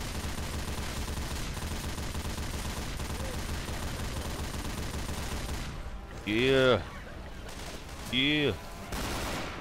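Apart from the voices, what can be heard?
mounted machine gun fire in Left 4 Dead 2 video game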